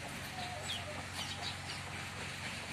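A brooding hen on a poultry farm, sitting on eggs for 21 days in a small wire-topped nesting enclosure, gives soft, low clucks over a steady faint background hum, with no talking.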